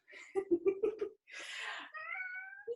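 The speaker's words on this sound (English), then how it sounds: "do you mind if I let my cat in?" A pet cat at a closed door meows in a quick run of short cries, then a longer drawn-out whining meow, close and fairly faint, with little else around it.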